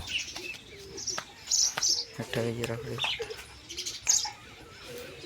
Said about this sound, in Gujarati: જો કબૂતર છે